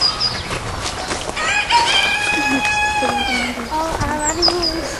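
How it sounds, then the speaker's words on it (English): Hens in a school yard cluck and a rooster crows, with bird calls rising and falling over about five seconds; people talk nearby underneath. "We have some hens in school"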